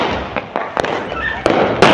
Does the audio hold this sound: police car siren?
no